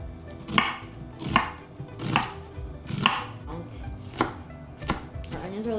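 Red onion is chopped finely on a board with about eight firm, evenly spaced knife strikes, close and crisp, heard alone without talk.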